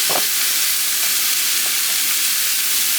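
Browned meat sizzling in a pan, a loud, dense, unbroken hiss and crackle held close throughout, with a couple of faint knocks and no speech.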